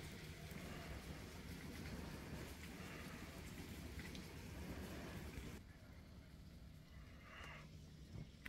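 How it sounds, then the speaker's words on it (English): Steady rain falling outside in Boston on a mild December night, a faint continuous patter and hiss that continues throughout at low level. "Yep, it's raining here in Boston."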